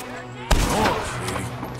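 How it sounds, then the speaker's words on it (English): Gunfire from enemies in Red Dead Redemption 2 bursts in suddenly with a loud shot, then a sustained rumble of overlapping shots and echoes, with a voice talking over the game sounds. "Whoa, they're all shooting at me now."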